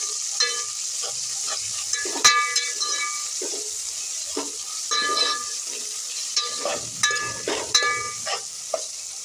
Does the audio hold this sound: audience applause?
no